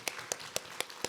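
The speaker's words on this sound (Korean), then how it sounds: "우리 박수로 축복하겠습니다" Applause during a church prayer meeting, heard as a handful of faint, evenly spaced claps in a quiet room, sounding thin and sparse rather than like a full crowd.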